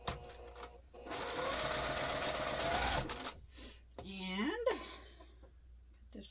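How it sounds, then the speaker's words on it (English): A sewing machine stitches fabric strips for a pumpkin potholder with a quarter-inch seam, running steadily for about two seconds close up, then a short fainter burst, with someone speaking around the stitching. "I'm going to stitch these to the very end."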